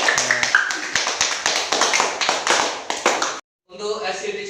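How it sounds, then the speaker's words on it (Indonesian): Classroom applause from a fifth-grade Islamic religious education class, a dense burst of many hands clapping steadily for several seconds, breaking off briefly before resuming under a teacher's voice. "Tepuk tangan."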